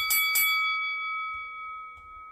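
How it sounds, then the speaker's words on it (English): A bell is struck twice in quick succession, then its bright metallic tone rings on and slowly fades. "I want to ring my bell again, because that was not loud enough at all"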